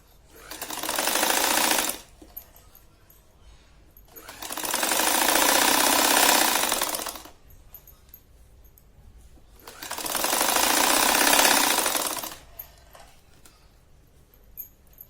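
An electric sewing machine stitches lace onto the edges of a shahi mastani saree, running loud in three bursts of about two to three seconds each, with short quiet pauses between them.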